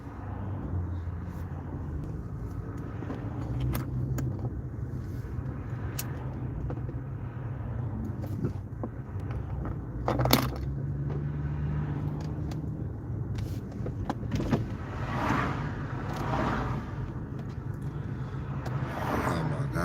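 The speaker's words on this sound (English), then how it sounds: "We got that morning traffic." Morning road traffic rolls past as a continuous low rumble of cars, with occasional louder vehicles passing nearby and no talking.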